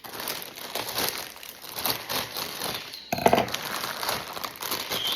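Plastic crinkles and rustles continuously as bags of vegetables such as mung bean sprouts, broccoli and peas are handled and torn open, with a brief pause and then more crumpling and clattering contents.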